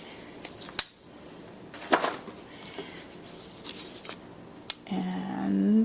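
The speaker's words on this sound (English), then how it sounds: "Just going to cut it down to 1 inch." Scissors cut a piece of card down to one inch for a coffee cup tag and card: a few sharp, separate snips near the mic against a quiet room, with a brief rustle at the end.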